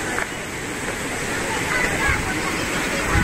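A river runs near a highland campsite at Curug Pajang in Puncak, Bogor, giving a steady, broad rushing wash of flowing water that fills the scene evenly throughout.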